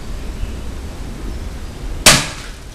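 One sharp, close pop from an ACM RPG-7 replica launcher being fired outdoors, standing out against steady background noise and trailing off quickly.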